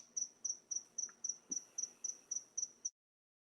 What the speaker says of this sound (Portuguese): O Grilo tá pesado.